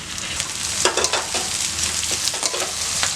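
Curry leaves tossed into a hot pan of oil and onions for upma, crackling and spitting in a loud, dense sizzle with bursts of popping and stirring scrapes throughout.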